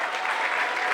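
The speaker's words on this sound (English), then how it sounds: "Let's give another round of applause." An audience at a college panel event claps steadily, a dense, even wash of applause throughout the brief moment.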